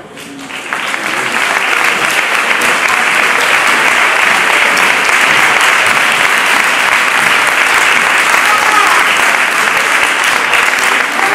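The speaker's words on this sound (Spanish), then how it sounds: "un fuerte aplauso para todos" Audience at the Pasarela Maliaya 2012 fashion show in Villaviciosa breaks into loud, sustained applause, a dense wash of many hands clapping steadily throughout with no voices over it.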